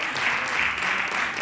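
Studio audience on a Spanish afternoon TV talk show claps steadily and fairly loudly for about a second and a half, with no break in the applause.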